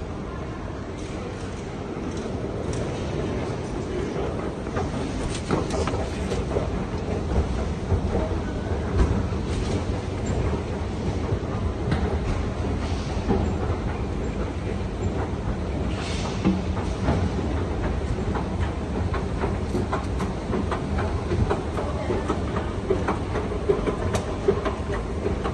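Ambience inside Manchester Piccadilly train station: a steady low rumble of trains and rail cars with faint clicking and scattered distant clatter, continuous and fairly loud throughout, with no clear talk.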